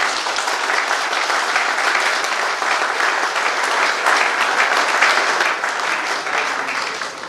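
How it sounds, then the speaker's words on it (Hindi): Loud, dense audience applause at a school safety training event in Raipur, sustained clapping from a large crowd, heard alone without speech. "जोरदार ताली।"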